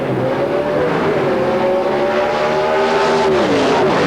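Powerful Pro Modified drag racing cars roar at full throttle as they launch at the 1991 IHRA Empire Nationals in New York, a loud sustained mechanical blast with rising revs.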